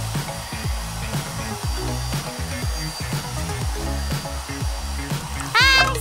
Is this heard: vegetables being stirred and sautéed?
no